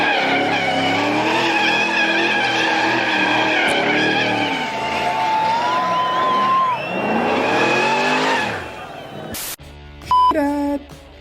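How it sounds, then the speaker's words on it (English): Car burnout at a Summernats street-machine event: sustained loud tyre-squeal and skidding with engine roar for about eight seconds, then a sharp cutoff followed by electronic beeps. "We're still wondering about which are the best tyres to use to do burnouts."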